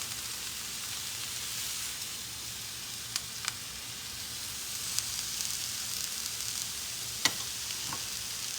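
Shrimp sizzle in a pan, a steady moderate hiss running the whole time, broken by a few faint clicks and scrapes as the pieces are turned.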